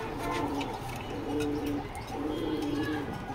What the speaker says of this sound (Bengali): দেরি না করে আমি কবুতরগুলো দেখাচ্ছি